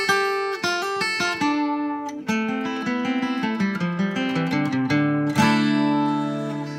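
A solo guitar plays a riff, plucked notes in a brisk, flowing pattern, close and clear with no talking.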